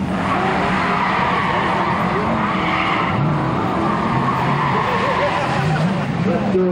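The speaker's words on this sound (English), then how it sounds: "Getting ready to make us another run with that bike." Drag racing motorcycle making a run at Greer Dragway in 1997, a loud, continuous engine roar with shifting pitch that fills the whole clip, with a crowd and announcer-like talk blended underneath.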